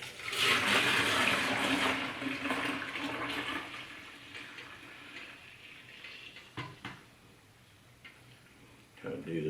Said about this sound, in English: So let's pour in our wort into our fermenter.